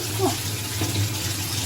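A tap runs steadily in a room during a rental inspection, the water hissing under a person speaking briefly.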